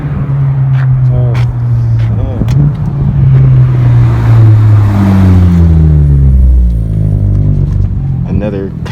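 A Cre8tive Motorsports Honda drives past, its engine rising and falling as it revs by close and loud, while people talk over it.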